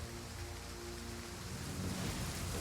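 Steady rainfall in the video game Total War: Pharaoh, a dense, even hiss of drops with a low rumble underneath, holding at a soft level throughout.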